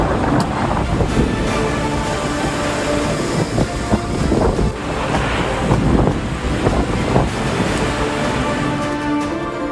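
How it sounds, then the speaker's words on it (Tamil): A strong cyclone wind in Paris roars steadily and loudly, a dense continuous gusting rush buffeting the microphone with no pauses. "பிரான்ஸ் தலைநகர் பாரிஸில் வீசிய பலத்த சூறாவளி காற்று"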